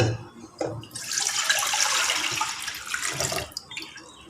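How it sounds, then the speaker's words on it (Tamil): Coconut milk pours in a steady stream into rice soaked with ginger for nasi lemak, a close liquid rush lasting about three seconds with a clunk before and after. "இப்போ தேங்காய் பாலை நான் அதில் ஊற்றிடுறேன்."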